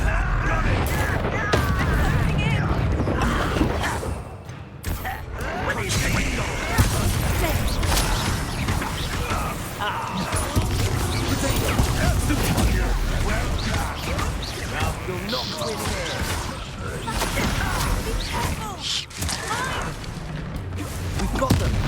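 Confringo explosive spell blasts in Hogwarts Legacy combat amid dense, continuous booms, crackles and clashing battle noise, loud and layered with a voice heard at times.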